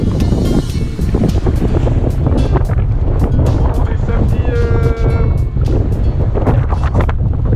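Strong wind buffets a sailboat beating upwind in about 25 knots on the Atlantic, a loud, steady roar and rush of wind and water throughout, with a person speaking over it.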